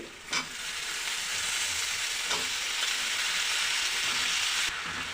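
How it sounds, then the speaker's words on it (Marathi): Red pumpkin pieces sauté in a pan of spices over a low gas flame for a spicy Konkan-style pumpkin sabzi. A steady, close sizzle runs throughout, opened by a couple of sharp stirring knocks, with no talking. "आता आपण परतून घेऊया गॅसची फ्लेम आपल्याला स्लोच ठेवायची आहे"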